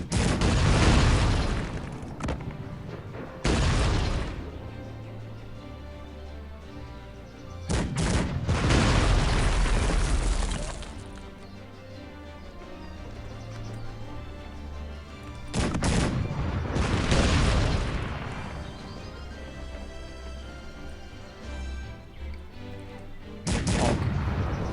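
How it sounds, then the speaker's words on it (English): Cannon fire in the real-time strategy game Cossacks 3, shelling a barracks during a castle siege: repeated heavy booming volleys in loud bursts with rumbling decay between them, along with crackling gunfire. "With the cannons, I'm gonna take down the rest of the armies inside the castle."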